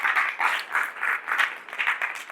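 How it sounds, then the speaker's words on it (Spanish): Church congregation clapping in praise, rhythmic pulsing claps in unison that swell and fade in regular beats, fairly close and lively. "dale un aplauso al Señor"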